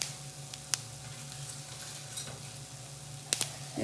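Onion going into a hot pan with neem leaves, spices and chilli powder for a Kannada colocasia-leaf patrode dish, giving a steady soft sizzle and frying hiss with a few sharp clicks of the spoon, alone and fairly quiet.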